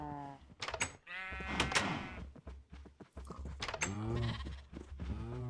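Sheep in a Minecraft-style video game bleat again and again in short wavering cries, several overlapping near the listener, with a few soft background noises between them.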